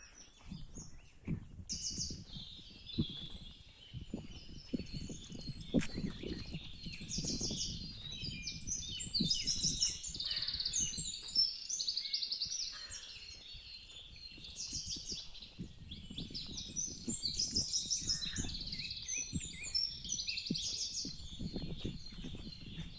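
Many small birds chirp and twitter continuously in the distance around the Kadyavarcha Ganpati temple grounds near Dapoli, bright overlapping calls over a quiet, calm outdoor background with low rumbling noise.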